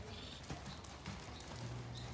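Horse hooves clip-clop at a riding exercise around ground poles in a barn arena, a steady, moderately quiet stepping rhythm with a faint low hum and no talk.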